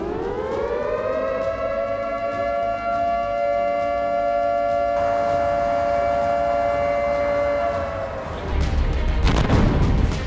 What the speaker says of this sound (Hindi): खतरे का सायरन बज रहा है।